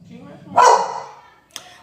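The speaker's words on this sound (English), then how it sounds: "Somebody walked up to the door and my dog started barking." A dog indoors barks at someone at the door: one loud, close bark that trails off, then a short sharp yelp a second later, with a voice talking faintly underneath.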